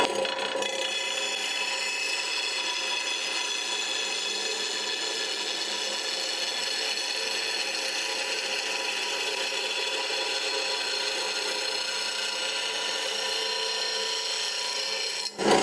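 Rotary lawn mower blade sharpened on a grinder, with continuous harsh abrasive rasping of steel against the wheel, steady and close with no pauses.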